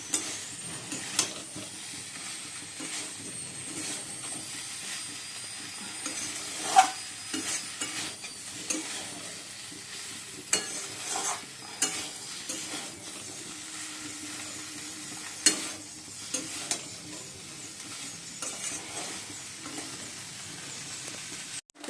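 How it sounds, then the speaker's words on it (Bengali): Steady stirring and sizzling of curry frying in a pan, with a spoon scraping and clacking at irregular moments over a continuous frying hiss. "ভালো করে মিশিয়ে কষিয়ে অল্প করে জল দিয়ে দেবো"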